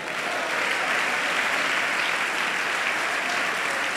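Church congregation giving a loud, sustained round of applause, a steady dense wash of many hands clapping at once in a large room.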